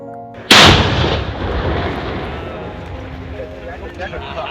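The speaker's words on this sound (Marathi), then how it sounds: "हिथे तोप वाजली की गावकऱ्यांका ऐकूक जाता" A single huge ceremonial cannon blast booms out suddenly in a village, followed by a long rumbling echo that fades slowly, with faint voices in the background.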